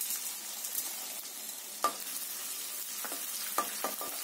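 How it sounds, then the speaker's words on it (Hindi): Edible gum (gond) frying in batches over a low flame for wheat-flour panjiri, a soft, steady sizzle with occasional sharp spoon taps and scrapes against the pan. "और इसे इसी तरह से लगातार लो फ्लेम पर ही फ्राई करना है इसे भी।"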